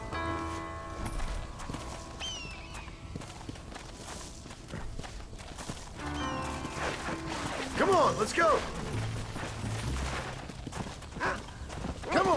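Horse hooves clip-clop in the Red Dead Redemption video game, a brisk rhythmic run of hoof strikes mixed with game sounds and a brief whistle-like tone, while someone talks over it.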